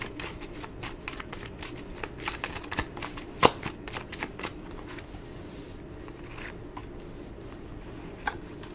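A deck of tarot cards is shuffled close by, giving a run of quick papery riffles and soft slaps that thin out into occasional taps.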